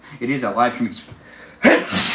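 A single sharp sneeze bursts out right after someone finishes a short spoken line during a live taco-cooking stream, loud and abrupt against the quieter speech before it.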